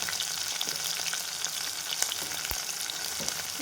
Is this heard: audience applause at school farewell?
no